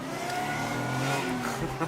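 Car fitted with a bolted-on air compressor accelerating on a road closed to traffic, its engine note rising steadily and loud throughout, close to the listener, with faint voices in the background.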